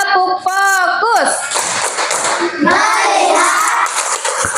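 A classroom of students chants in unison and claps along in a short rhythmic clap routine led by a teacher, voices and hand claps blending together.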